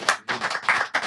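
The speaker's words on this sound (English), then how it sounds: "Let's have a round of applause" A room full of people breaks into clapping and cheering during a casual hangout show at a plaza, the claps coming in loud bursts that rise and fall across a second.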